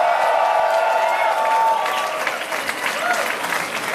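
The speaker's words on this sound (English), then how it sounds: "Let's applaud all of them." A crowd under a tent at an LGBT Pride celebration applauds loudly, a thick roar of clapping with some cheering mixed in, tapering slightly toward the end.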